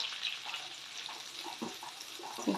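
Onions sautéing in a pan for Tamil-style chilli chicken, a faint, steady sizzle with soft stirring scrapes and small clinks.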